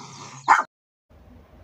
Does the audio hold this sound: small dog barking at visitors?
yes